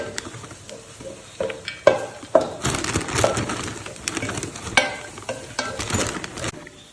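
Ready-made kottu being stirred and mixed with vegetables in a pan, giving a steady scraping, sizzling churn with sharper clinks and bursts of tossing, close and continuous throughout.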